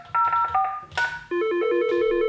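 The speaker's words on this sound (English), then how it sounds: "you can adjust the ringer as the phone is ringing" A Mitel IP phone rings loudly and close with an electronic tone pattern of short warbling bursts, then shifts to a steady repeating two-tone ring.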